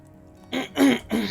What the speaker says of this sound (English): I'm constantly having to clear my throat.